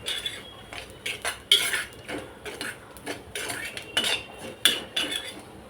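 Dry grated coconut roasting in a pan for a no-onion, no-garlic masala paste, with a spoon scraping and clinking against the metal in irregular bursts, close and moderately loud with no talking.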